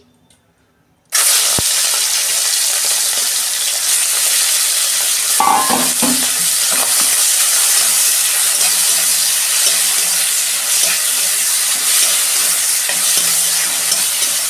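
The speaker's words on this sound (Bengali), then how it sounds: "আমি এই চিংড়ি মাছগুলো ভেজে নিচ্ছি" Loud steady sizzling of shrimp frying in hot oil starts abruptly after a moment of quiet and continues throughout, with brief clatter of stirring.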